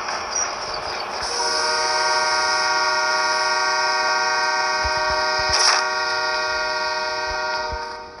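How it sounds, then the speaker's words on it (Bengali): Sustained, loud train horn in a mobile battle royale shooter game, holding one steady chord for several seconds with no speech over it, then fading out near the end. "ট্রেনের ঘন্টা।"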